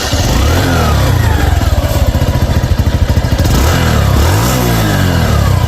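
A second-hand Suzuki motorcycle engine runs close and loud, a steady rapid thumping idle that rises into a couple of throttle revs before settling back.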